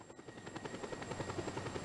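A helicopter in the video game Just Cause 2 with a steady, fast rotor thump and engine hum that carries evenly through the short stretch.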